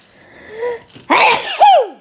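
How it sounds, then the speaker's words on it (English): A single close sneeze: a brief intake of breath, then a sharp explosive burst trailing into a short voiced tail. "I'm fixing to sneeze."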